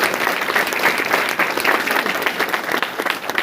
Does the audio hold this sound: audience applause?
yes